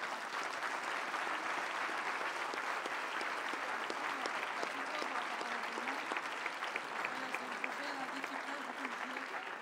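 A large audience applauds at a talk on rethinking stories about the Earth's future, sustained dense clapping that stays steady and fairly distant for nearly ten seconds, with faint voices underneath.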